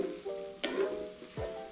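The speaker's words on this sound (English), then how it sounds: "there is a lot of meat, so we're gonna brown this up" Italian sausage meat browning in a pan, a low constant sizzle with a few sharp scrapes and clatters of a utensil pushing the meat around, close and fairly quiet.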